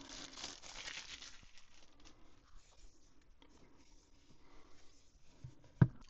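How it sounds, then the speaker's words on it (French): Packaging of a UGREEN USB4 SSD enclosure being opened, soft crinkling and rustling of wrapping at first, then quieter handling and a sharp close knock near the end, with no talking. "Et là, on va ouvrir le boîtier SSD"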